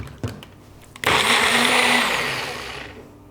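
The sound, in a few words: blender blending soaked dates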